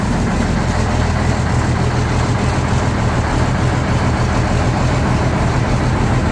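A diesel engine, apparently a Caterpillar, idles steadily and loudly just after a cold-weather start, ready for hauling corn, with a constant low rumble and no talk.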